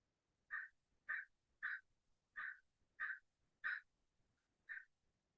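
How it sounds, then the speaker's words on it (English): Seven short, tonal bird calls repeat at an even pace, faint and distant, with nothing else around them. "I don't know if you guys can hear the birds outside."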